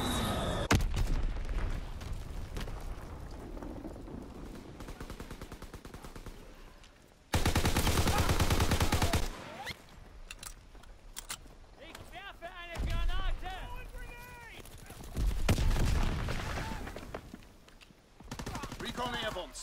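Call of Duty WWII match with a Fritz X bomb strike landing as a burst of loud explosive blasts, set amid repeated machine-gun fire and battle noise, with game announcer voices calling out over the action.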